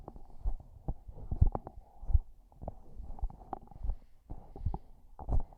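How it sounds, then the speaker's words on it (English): Handling noise on a Peavey PVM 44 dynamic microphone: soft, irregular low thumps and rubbing bumps, close and muffled, with no speech. "Let's try the handling noise on the PVM 44."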